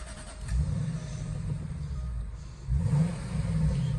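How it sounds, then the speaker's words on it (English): A 2005 Jaguar XK X150 convertible with the 4.2 engine and standard exhaust starts up and settles into a low, rumbling idle, then swells briefly louder near the end, heard up close with no talking. "Let's have a start up and you can see it."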